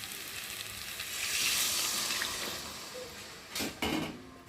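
Soybean, potato and pointed gourd curry simmering in a pan, a soft continuous sizzle and bubbling that swells and fades, with a couple of brief stirring scrapes near the end.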